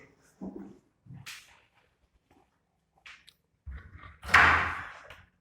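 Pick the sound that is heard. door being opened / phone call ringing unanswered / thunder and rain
door being opened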